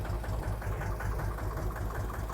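The 14-horsepower engine of a Thai six-wheel farm dump truck idles close by in a steady, low, rumbling chug that stays even throughout.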